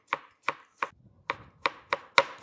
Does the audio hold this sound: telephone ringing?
no